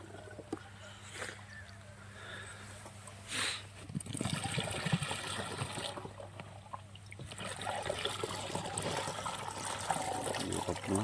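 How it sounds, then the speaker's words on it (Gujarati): Water trickles and splashes steadily into a container on a cumin farm, a constant running stream with a low hum underneath and occasional faint voices. "પાણી ભરાય છે"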